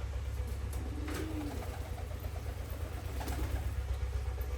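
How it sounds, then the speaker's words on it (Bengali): A pigeon coos softly a couple of times against a steady low background hum, faint and at some distance, no voices. "ও নিজের মতো করে ডাকাডাকি করছে"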